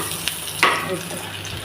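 An egg with green chili fries in a pan with a soft, continuous sizzle and one brief sharper spit of hiss partway through.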